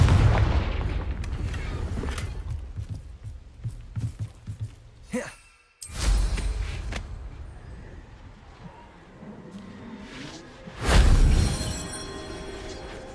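Confringo fire spell explosions in Hogwarts Legacy, heard as heavy booming blasts with rumbling tails, one huge burst near the start and another strong blast late on, over continuous game sound.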